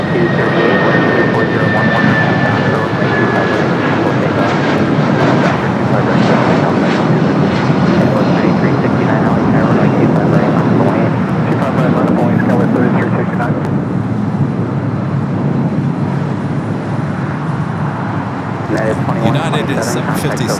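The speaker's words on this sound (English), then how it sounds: "We do have a United 757 now departing off 25 right." A United Boeing 757 departing runway 25 right at LAX, a loud continuous jet engine roar with a faint whine early on, sustained throughout under occasional talk.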